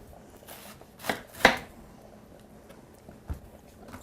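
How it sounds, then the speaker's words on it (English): A large knife cuts through a cabbage on a board, a few sharp, separate chops with quiet gaps between them, close up and fairly soft. "So we're going to cut off the bad place here on this cabbage, and then we'll cut it in small, like, pieces"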